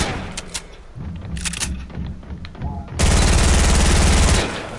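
Video game gunfire in bursts of sharp shots that turn into a dense, loud, sustained automatic barrage partway through.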